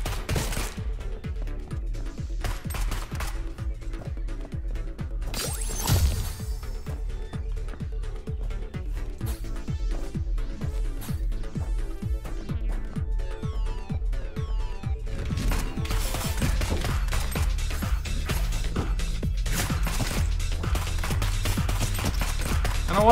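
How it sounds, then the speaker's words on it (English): Eggs exploding in the Neon Abyss video game: a steady stream of rapid popping blasts crackling over continuous game music, with a denser burst of explosions toward the end. "Oh my god, the eggs! They're exploding everywhere!"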